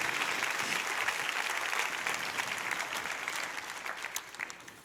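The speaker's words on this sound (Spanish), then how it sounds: "¿Le das el mejor aplauso al Rey, por favor?" A church congregation applauding during a sermon, a loud, dense and continuous round of clapping from many people that holds steady and gradually thins toward the end, with no talking over it.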